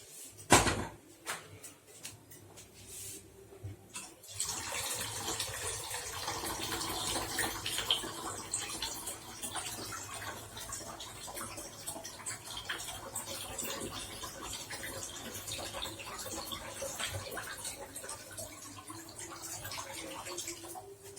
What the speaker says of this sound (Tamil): தண்ணியை சேர்த்துடலாம்.